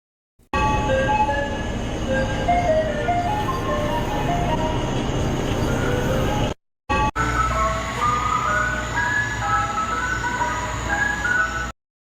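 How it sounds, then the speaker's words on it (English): An ice cream truck cruising the streets at 9 o'clock at night, with a steady, loud vehicle rumble and a tinkling chime melody running throughout, briefly cutting out partway before resuming. "Why are you riding around in the ice cream truck, bro?"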